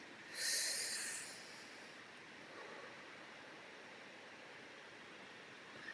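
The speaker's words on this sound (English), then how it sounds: "Take a deep breath" A single deep inhaled breath during a breathing exercise, a brief close airy rush near the start that fades into faint steady background hiss.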